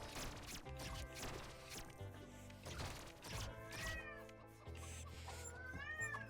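A cat character in The Lego Movie Videogame meows repeatedly, drawn-out wails over the game's continuous music and crashing effects, with brief talk.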